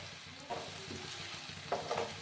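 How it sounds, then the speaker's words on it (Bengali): Potatoes and onions frying in a pan, giving a soft continuous sizzle with a few scraping stirs of a spatula, close and moderately quiet. "আরও একটু সময় আমি আলু পেঁয়াজগুলোকে ভেজে নিচ্ছি"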